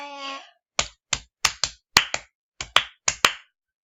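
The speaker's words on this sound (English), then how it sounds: "I like to clap." A person claps hands in sharp, close, loud bursts, roughly ten claps in uneven pairs and singles after a brief hummed tone at the start.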